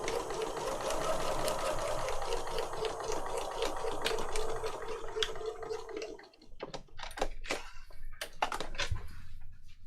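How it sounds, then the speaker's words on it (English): A sewing machine runs in a steady, continuous whir as it stitches around a paper pocket for a journal, then stops and gives way to a few sharp clicks and taps near the end. "I've sewn around the whole pocket like that."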